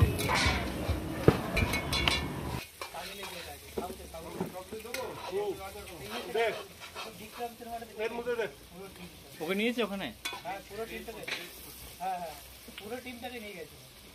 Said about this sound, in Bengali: জিরে গুঁড়ো, সব কিছু দিয়ে এরকমভাবে ভালোভাবে মশলাটাকে ভেজে নেওয়া হচ্ছে।